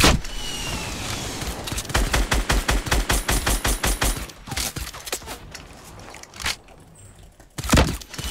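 Gunfire in the Fortnite video game, with a loud burst of rapid automatic shots in a fast steady rhythm, followed by scattered single shots and quieter game sounds.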